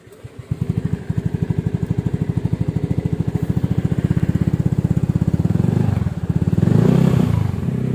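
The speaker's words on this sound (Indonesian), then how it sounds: "ini gua mau tes blayer ya, knalpotnya ya" A motorcycle fitted with a Tsukigi RRGS aftermarket exhaust idles with a loud, rapid, bassy pulsing thump, then is blipped and revved up near the end, heard up close outdoors in a residential complex.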